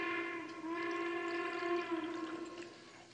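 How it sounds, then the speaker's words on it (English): A morning train passing near a house close to the railway tracks sounds its whistle in one long, steady, chord-like blast held for about three seconds at moderate, even loudness. "This morning train, we don't live too far from the tracks."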